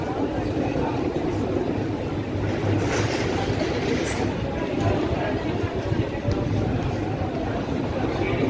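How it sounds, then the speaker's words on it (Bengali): The Sainagar Shirdi–Howrah Superfast Express pulls out of Kopargaon station after a short halt, a loud, steady rumble of wheels and carriages filling the whole stretch, heard from on board with faint voices in the mix. "তিন মিনিট হল্টে আমাদের ট্রেন বেরোচ্ছে কোপারগাঁও থেকে"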